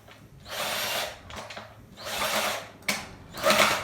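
A power drill drives screws into a wooden crate for a DIY coffee table, running in three short, light bursts of whirring with brief pauses between them, close by and alone.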